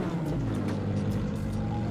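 A Lamborghini engine in GTA 5 revs and roars steadily up close, a deep throaty drone with a few rising throttle blips.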